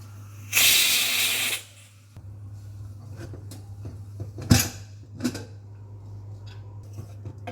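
A loud burst of hissing steam from a pressure cooker whistle lasts about a second, followed by quieter clicks, faint rustles and a low steady hum.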